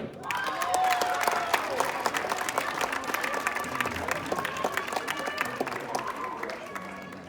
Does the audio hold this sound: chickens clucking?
no